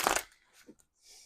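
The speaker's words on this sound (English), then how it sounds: "I'm going to do one more shuffle" A brief riffle of tarot cards being shuffled close by, followed by faint handling noises and light rustles.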